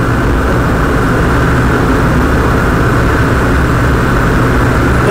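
Steady, loud engine drone from a car being driven while the engine runs too warm, a continuous broadband roar with no talk over it.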